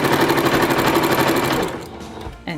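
A sewing machine stitching quilt blocks chain-style, whirring with a fast even needle rhythm that runs steadily, then slows and stops, followed by a brief clack as the presser foot is handled.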